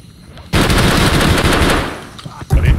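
Rapid automatic gunfire in a shooter video game, a loud sustained burst of shots lasting a couple of seconds, followed by a shorter burst.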